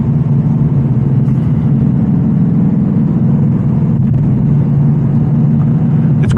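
A loud, steady engine drone with a deep exhaust rumble from a 2025 Ford Mustang Dark Horse 500 hp V8, continuous and close, with no voices over it.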